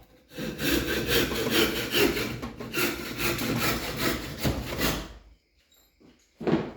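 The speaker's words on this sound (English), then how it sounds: "it's faster for me to just use a handsaw instead of walking all the way across to the other side of the shop" A handsaw cuts wood in a workshop in fast, rasping back-and-forth strokes that run steadily for about five seconds. It stops briefly, and then one more short stroke follows.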